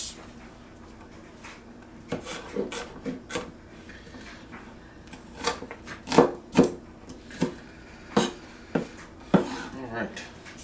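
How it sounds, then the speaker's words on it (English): Knife chopping vegetables on a cutting board for a breakfast skillet, a run of sharp, close taps coming in irregular clusters, with a voice talking in between. "Chop these up as they all fall out."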